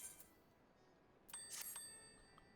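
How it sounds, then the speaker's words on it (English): Summoning bell in Final Fantasy XIV, a bright, quiet chime with shimmering ringing tones that rises once after a near-silent pause and fades gradually, with no talking. "So, summoning bell."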